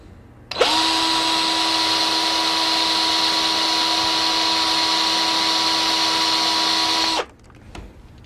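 A power drill drives a screw through a model railroad track tie into a homosote sound-absorbing pad over plywood, giving one loud, steady whine lasting about six and a half seconds with no talk.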